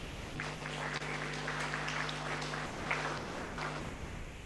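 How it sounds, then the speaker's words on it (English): Faint applause for a speaker at an online health conference webinar, thin scattered clapping heard quietly through a remote connection alongside a low steady hum. "we give the applause for Miss Petra Diansari"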